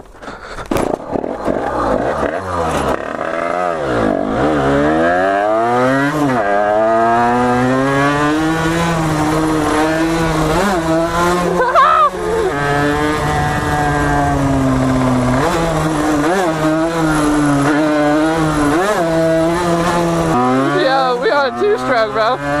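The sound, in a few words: two-stroke dirt bike engine, 49cc tuned to 80cc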